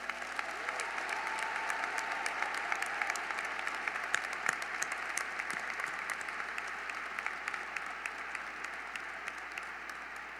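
Sustained applause from a large crowd at a Syracuse University commencement ceremony, honouring graduates' families, dense and steady clapping filling the hall for about ten seconds with no voices on top.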